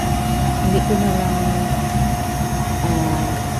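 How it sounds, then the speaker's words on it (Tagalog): A household vacuum cleaner runs continuously while cleaning a car in a home garage, a steady whining hum with a low rumble underneath, loud and close throughout. "Ang ginamit ko ay yung vacuum sa bahay."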